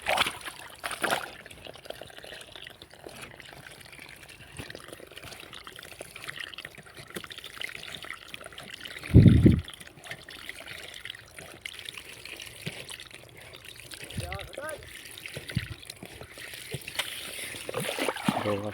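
Irrigation water gushes and splashes steadily from an unplugged pipe into a wheat field, with a brief louder burst midway and faint sounds of movement nearby.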